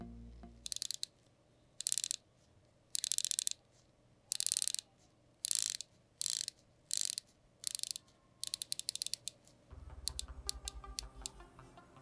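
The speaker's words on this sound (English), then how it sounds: "The bezel is silky smooth with a dampened soft click" Bursts of fine, dampened ratcheting clicks come in short repeated runs, close and crisp, as a Seiko SPB335 watch bezel is turned in steps, then a quieter slower clicking near the end.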